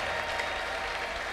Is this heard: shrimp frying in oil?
no